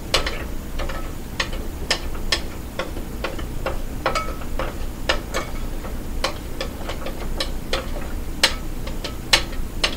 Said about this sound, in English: take a spoon and make sure it's completely incorporated